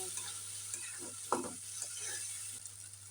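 Faint sizzle of a fish manchurian sauce with pepper and soy sauce frying in a pan, quiet and close with a few soft stirring taps.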